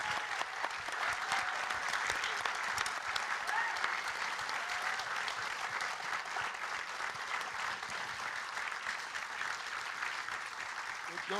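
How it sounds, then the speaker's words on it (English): Audience applause for a panel at an evening gala, a dense, steady round of clapping from a full room lasting throughout, with faint voices mixed underneath. "Let's give the panel one last round of applause."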